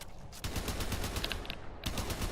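Tiberon Prime rifle firing in the Warframe video game, rapid bursts of gunfire in quick succession with a brief pause, loud and close, no talk.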